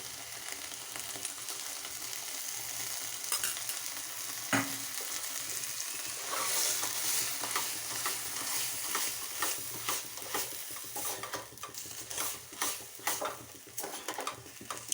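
A vegetable-peel mixture cooking in mustard oil: a constant sizzle with repeated scraping stirs and light utensil clinks against the pan, growing busier toward the end.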